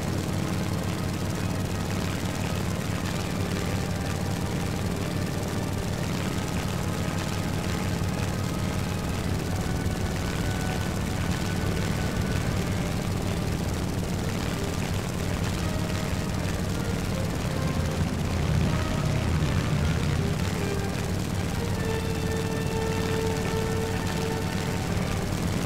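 A Mitsubishi A6M3 Zero propeller fighter in War Thunder drones steadily during a carrier landing approach, a loud continuous engine hum with rotor-like pulsing that holds for the whole stretch with no talk.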